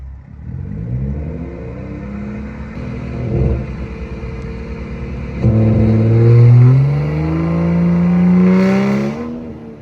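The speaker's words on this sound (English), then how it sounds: "So let's run the air intake side now. I'm going to bring it up to about 2k RPM and then gently feed the throttle on." A BMW M235i's air intake rumbles close up as the engine is brought to about 2,000 RPM, then swells louder with gentle throttle, a steady deep drone rising in pitch with no talking.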